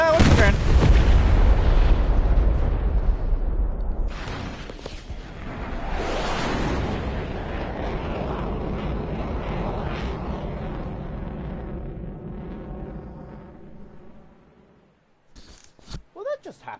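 Combat aircraft in a video game hit by strafing gunfire, a loud roaring rumble and heavy blasts up front, then a long fading engine drone that drops to near silence before a few sharp clicks.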